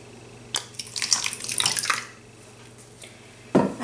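Rice vinegar poured into a bowl of marinade sauce, a short close trickle and splash lasting about a second and a half, followed by a brief clink near the end, with no talking.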